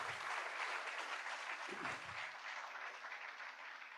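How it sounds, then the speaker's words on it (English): Sustained audience applause at an AI business summit, a steady dense wash of many hands clapping that fades slightly toward the end, heard without speech. "Big round of applause to you guys first."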